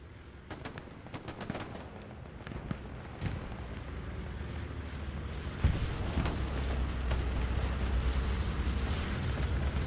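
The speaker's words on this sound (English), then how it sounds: "Bombing run coming into the back line." Bombing run explosions in the Hell Let Loose game, a dense barrage of booming blasts and rumbling gunfire that swells and stays heavy after the midpoint, with no talk.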